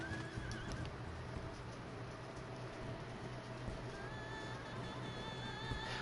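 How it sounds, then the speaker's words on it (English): In the Final Fantasy XIV video game, a horse mount whinnies and its hooves clip-clop steadily in a quiet, even rhythm, with no talking and a soft game-music bed behind. "I'm going to ride the horse."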